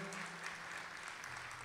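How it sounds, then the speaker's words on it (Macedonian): Audience applauding after a youth orchestra concert at a craftsmen's hall in Kumanovo, a steady dense patter of clapping filling the room throughout. "да ги поздравиме со еден аплауз"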